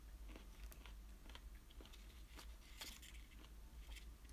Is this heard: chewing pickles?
yes